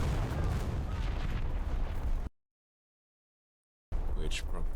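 A bomb explodes in the War Thunder tank battle game: a loud, sustained roar of blast and battle noise fills the first two seconds before the sound cuts to silence, then returns with harsh crackling debris.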